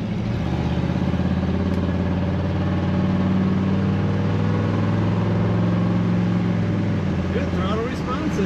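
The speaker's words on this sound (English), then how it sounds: "Nice loud exhaust on this car." A 1971 Chevrolet Nova 2-door post with an automatic transmission and loud exhaust runs close by, a deep steady engine rumble with a slight rise in revs near the end, while someone talks over it.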